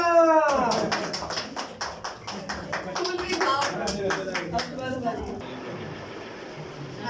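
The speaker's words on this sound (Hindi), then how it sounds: "तालियां।" Scattered clapping from an audience at a Pakistan news channel's anniversary event, a few irregular claps heard with a voice speaking over them and background sounds, fading out toward the end.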